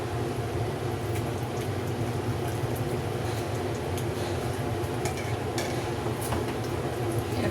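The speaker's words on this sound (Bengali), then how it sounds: "এখন এভাবে নাড়তে থাকি।" Karachi halwa being stirred in a pan with ghee, a steady soft scraping and bubbling that runs without break at close range and moderate level.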